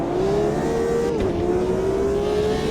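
A race car's engine drones steadily and loud in the sim racing game Automobilista 2, with a brief dip as the tyres lock up under late braking before the engine note settles again.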